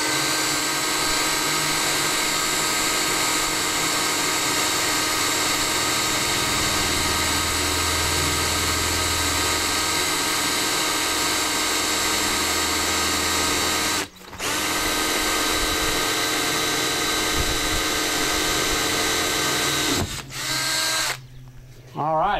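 A power drill with a bit bores a hole for a wakeboard tower installation on a boat, a loud steady whine running for about fourteen seconds, briefly dropping, then continuing before cutting off near the end.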